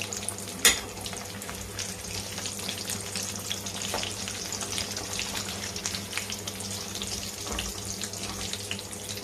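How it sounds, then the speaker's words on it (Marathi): Vadas deep-frying in hot oil until crisp, a continuous bubbling sizzle close by with a low steady hum beneath and an occasional clink of a slotted spoon against the pan. "दोन्ही साईडने आपण छान असे हे वडे क्रिस्पी होईपर्यंत तळून घ्यायचे"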